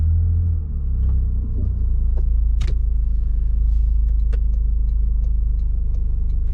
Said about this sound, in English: car just fucking drove by